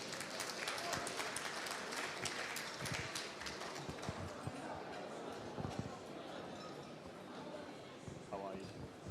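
Applause breaks out across a gala dinner audience, a sustained patter of many hands at moderate distance with scattered sharper claps, with voices mixed underneath.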